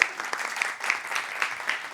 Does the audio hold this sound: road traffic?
no